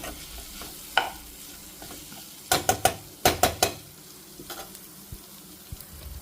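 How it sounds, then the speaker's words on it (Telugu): Tamarind leaves frying in oil as they are stirred, a soft sizzle under bursts of sharp spatula knocks against the pan, close by. "సో చూడండి వేగుతుంది మంచిగా వేగాలి"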